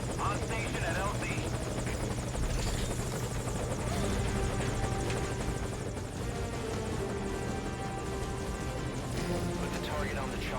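A helicopter hovers nearby in Metal Gear Solid V: Ground Zeroes, its rotor chop and engine drone loud and constant, with voices talking over it throughout.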